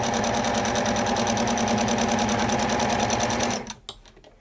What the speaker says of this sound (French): j'ai fait ma couture sans enlever mes épingles